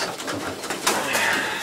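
Pigeons in a loft give a soft, continuous murmur of cooing, close and steady, with a brief rise in the middle and no talking.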